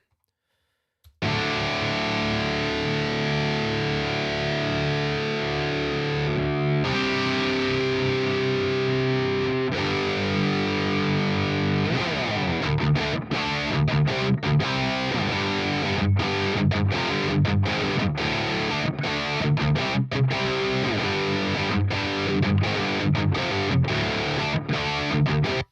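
Distorted electric guitar riff played through an amp modeler preset, loud and dense with sustained chords, then choppier, rhythmic palm-muted chugging in the second half, no voices.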